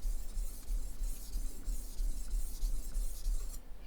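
A knife is drawn across a 1000 grit whetstone, a steady close gritty rasp that carries on continuously without pauses, no speech.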